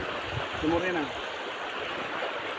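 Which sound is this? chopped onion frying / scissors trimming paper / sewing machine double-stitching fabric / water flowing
water flowing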